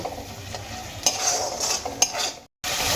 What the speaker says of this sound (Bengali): এবার আমি সমস্ত মশলা খুব ভালো করে কষিয়ে নেব যাতে করে মশলা যে কাঁচা গন্ধটা সেটা একদমই না থাকে